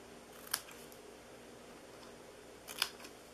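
Scissors snip a paper flap on a small Christmas jar treat box, two crisp close cuts about two seconds apart against a quiet room hiss.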